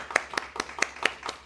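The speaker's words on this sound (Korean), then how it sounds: "우리 또 감사의 박수를 한번 하도록 하겠습니다." A church congregation claps in thanks during a worship service, six spaced, fairly even hand claps in a steady rhythm, moderately close and without voices.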